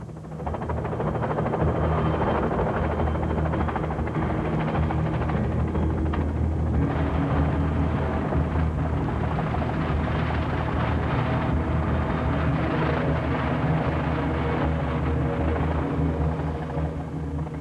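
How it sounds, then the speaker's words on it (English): A Labrador search and rescue helicopter gives a loud, continuous rotor and engine roar, a dense unbroken rumble that holds steady from start to finish with no voices over it. "Acquisition of the Labrador helicopter required the development of a whole new training program."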